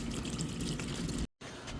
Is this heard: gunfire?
no